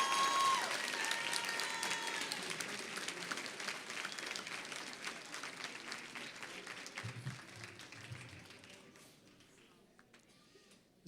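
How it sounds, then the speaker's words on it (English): School board meeting audience applauding elementary student winners, a strong burst of clapping that gradually thins and fades over several seconds, with some voices and murmuring mixed in. "Let's have one loud round of applause for all of our elementary winners."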